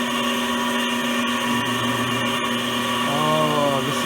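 A cobalt starting drill bit grinds into hard metal on a drive sprocket, a steady loud whirring motor drone with sharp tonal whine, the pitch shifting briefly near the end.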